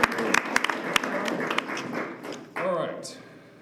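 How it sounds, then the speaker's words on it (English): Scattered applause from a small audience at a city council meeting in Clemson, with brief sharp claps at the start. The clapping thins and gives way to a voice speaking near the end. "we can clap."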